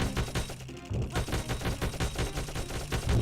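Osmond unleashes a long, sustained burst of rapid gunfire in the Dark Cloud video game, dense and loud, with a brief thinning near the start before the rattling shots resume without pause.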